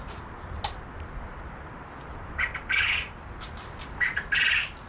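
Coturnix quail calling outdoors, with two bursts of loud, harsh squawking calls near the end following a quieter stretch of faint chirps.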